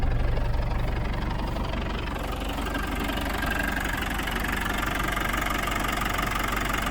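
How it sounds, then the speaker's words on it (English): A 1992 Land Rover Defender 110 with the 200tdi diesel engine idles steadily and close by, a continuous low rumble with faint knocking clatter and no voices. "The engine runs really smooth,"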